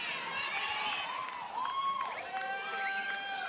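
A crowd at Ballymore Stadium cheers and shouts during a women's flag football national final, a fairly distant, steady roar with rising whoops and a few higher voices.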